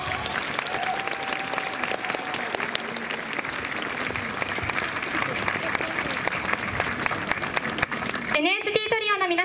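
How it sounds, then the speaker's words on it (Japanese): Steady applause from an audience at a Tokyo art university festival following a trio's performance, continuous and moderately distant, with a voice breaking in near the end. "もう一度拍手の方をお願いいたします。"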